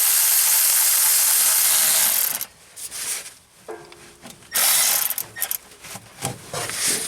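Ratchet turning out a screw on a GEHL skidloader during a crank no-start repair, heard as short, close clicking and scraping strokes in bursts after a stretch of steady hiss.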